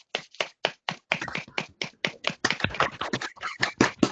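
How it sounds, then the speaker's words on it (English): Brisk, close clapping from a small group salutes the finalists at a competition grand final, with dry, rapid hand claps in an uneven patter and no talking. "Let's all give them a lovely big round of applause."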